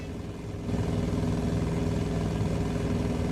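A Piper Cub Flitfire engine in Microsoft Flight Simulator 2024 runs steadily with a slightly rough, clattering drone and a faint rhythmic ticking from the valves, continuous and close.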